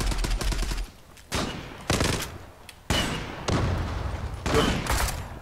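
Gunfire from the online shooter Zula crackles in several separated bursts of rapid shots and fusillades, with a few sharp single reports amid brief pauses.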